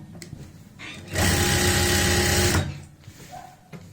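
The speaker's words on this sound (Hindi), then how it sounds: "इस पट्टी के ऊपर एक सिलाई और लगा लेंगे किनारी की" A sewing machine runs a quick line of stitching along the edge of a fabric strip on palazzo pants, a close, steady whirring burst of about one and a half seconds between quieter handling.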